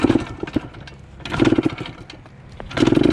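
A 1974 Yamaha MX100 two-stroke dirt bike with the choke on and low compression, being kicked over in winter; the small engine catches in three rising bursts that sputter and fade between, loud and close.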